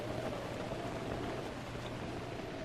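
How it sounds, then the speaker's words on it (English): Rain falls steadily in a Zelda video game, a constant hissing wash of droplets with a low hum beneath, even and unbroken from start to finish without any voices. "Don't care much for the rain either right now."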